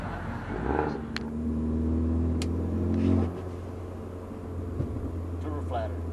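A car at a car show revs up, its engine tone rising and holding before cutting off with a fluttering turbo release, close by, while people talk over it.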